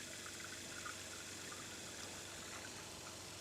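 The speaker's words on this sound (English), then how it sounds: "Pump is running." A water pump runs steadily while filling the water heater in a 2025 AWD Sprinter van conversion, with leaks in the fittings. The sound is a continuous, fairly quiet hiss and gurgle of flowing water with no voices.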